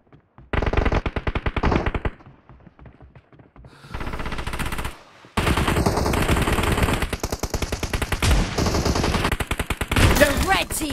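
Rapid automatic gunfire from an iPad shooting video game, loud bursts of machine-gun fire repeating in dense volleys with short gaps between them, no talking.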